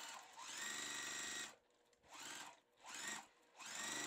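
A sewing machine re-stitches a sew-and-flip quilt block seam, running in a steady whir for about a second and a half, then in three shorter bursts separated by brief pauses, close and alone.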